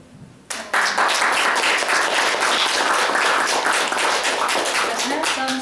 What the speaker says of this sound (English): how about the big round of applause for Dina?